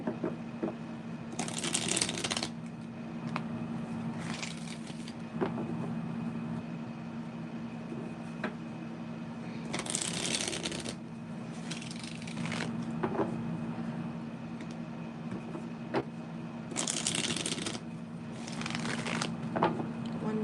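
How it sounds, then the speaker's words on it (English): Repeated bursts of tarot cards being shuffled, three pairs of quick riffles spaced several seconds apart, over a steady low hum with quiet pauses between. "more shuffle."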